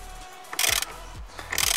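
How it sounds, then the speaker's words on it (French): A ratchet fitted with an extension bar works loose the steering wheel fastener on a Mercedes W124, giving short bursts of clicking with pauses between strokes, close and fairly quiet. "j'ai mis une barre sur mon cliquet pour que ce soit plus facile. Donc c'est parti, on dévisse."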